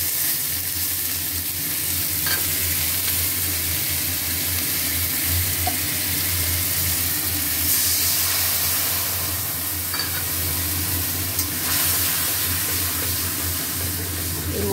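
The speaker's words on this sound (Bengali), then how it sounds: "এবার মশলা দিচ্ছি।" Spices sizzling in hot oil in a pan after paneer was fried, with tempering added: a loud, continuous, close hiss and crackle throughout, with occasional faint clinks of stirring.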